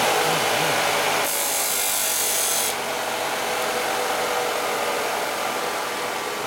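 A rotary tool fitted with a cutting disc grinds a part from a 74ci Shovelhead carburetor. It gives a loud, continuous high whine with a harsher grinding burst partway through, and no one speaks.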